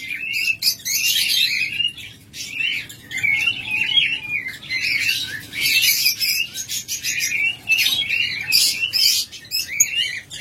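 A breeding pair of lovebirds kept in a cage chirps and tweets in rapid, busy bursts, close and fairly loud, with no pauses across the whole stretch.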